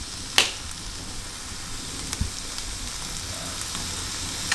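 Onions sizzle steadily in a pan, a constant crackling fry with a sharp utensil knock near the start and a few scraping stirs, no speech.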